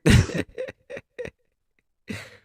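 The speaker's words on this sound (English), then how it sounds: "I'm having a cough attack." A coughing fit from a podcast host: one loud, harsh cough followed by three short, quieter coughs, a pause, then a final rougher cough, all close to the mic.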